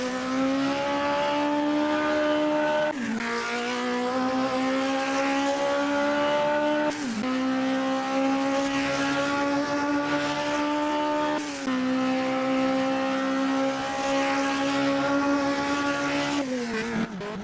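A Formula Jr open-wheel race car in the Automobilista 2 sim, lapping the Nürburgring GP circuit and taking the Coca-Cola curve onto the start-finish straight. The engine holds a loud, steady, high-revving drone with brief dips around downshifts.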